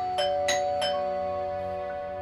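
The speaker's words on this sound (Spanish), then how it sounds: "Sobre las 7, toqué el timbre de su casa." A house doorbell rings three times in quick succession, bright chime strikes over a faint steady hum, with the last tone fading out alone.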